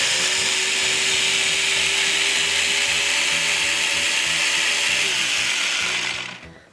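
A blender whirs steadily as it mixes sweet bread dough with salt, sugar and yeast, a loud continuous motor drone with a rhythmic churning pulse, shutting off near the end.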